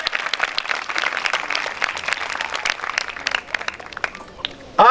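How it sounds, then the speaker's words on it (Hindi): Applause from a congregation at a church program, brisk scattered clapping that swells and thins over a few seconds, with some voices mixed in. "तालियां बजाएं इस बात के लिए और खुदा का शुक्र करें।"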